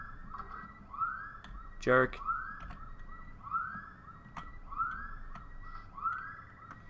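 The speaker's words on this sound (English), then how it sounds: "I heard the alarm, so I came running." A wailing alarm siren in the Pokémon Colosseum video game rises and falls in repeated sweeps about every 1.2 seconds, steady and moderately loud, with a brief burst of voiced game audio near the start.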